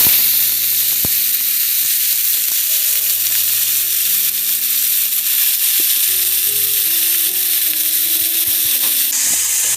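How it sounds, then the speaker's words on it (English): Onions, carrots and garlic sauté in olive oil, giving a loud, continuous sizzle and crackle close by with no talking. "I'm going to saute the onions, the carrots, and the 1 clove of garlic."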